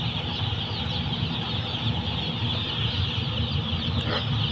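Small chickens clucking in a backyard poultry setting, a continuous busy chatter of fowl calls layered over steady ambient noise, moderately close with no talk.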